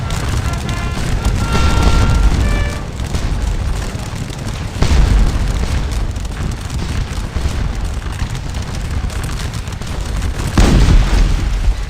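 Cannons firing canister into an infantry column in the Scourge of War: Waterloo battle game: a continuous loud roar of battle noise with heavy booming blasts around the middle and again near the end, and no voices.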